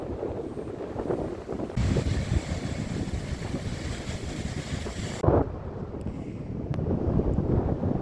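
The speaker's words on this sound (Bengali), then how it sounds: "নিচের গাছগুলো দেখো, তাহলেই বুঝতে পারবে কতটা হাওয়া দিচ্ছে।" Strong wind buffets the microphone at Dublagodi sea beach, a steady loud broadband roar lasting throughout with a harsher gust-like stretch in the middle, and no voices.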